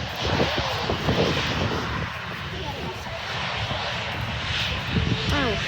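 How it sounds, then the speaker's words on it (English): Vulcan Air light aircraft at Manchester airport, its engine a steady, fairly loud drone running throughout with a rising whine near the end, while people talk over it. "here's some Vulcan Air. Now that's going to be tiny compared. Very nice aircraft that."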